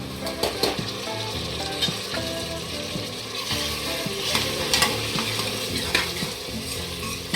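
Steady frying sizzle of onion and tomato in a pan with occasional scraping and stirring clinks, continuous and fairly loud throughout, no voices.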